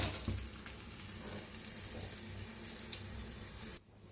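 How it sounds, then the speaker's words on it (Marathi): A chapati roasts on a hot, lightly oiled tawa over a full flame, giving off a steady, fairly close sizzle and crackle that runs nearly unbroken before dropping away abruptly at the end. "आता चपाती आपण मस्त भाजून घ्यायची."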